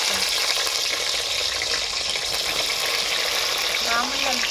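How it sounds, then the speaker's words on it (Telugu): Onions and green chillies frying in hot oil for a fish curry, a steady close sizzle with stirring scrapes throughout, loud and continuous with no talk. "ఇక ఉల్లిగడ్డలు పచ్చిమిరపకాయలు అయితే పోపులు వేస్తాం"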